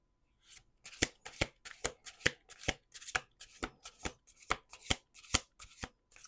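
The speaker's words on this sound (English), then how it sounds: "1 more shuffle." Tarot cards being shuffled in a quick run of sharp riffling snaps, close and clear with short pauses between bursts, no voices.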